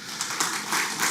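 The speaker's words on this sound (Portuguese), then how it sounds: "Vamos dar uma salva de palmas ao Senhor" A church congregation applauding together, a steady wash of many hands clapping at moderate volume in a reverberant hall, continuous and fairly even throughout.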